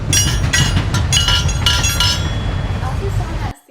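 A railroad train clatters past with rhythmic clinking and metallic rattles, loud and steady for several seconds before cutting off abruptly.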